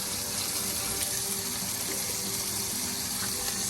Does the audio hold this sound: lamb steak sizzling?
yes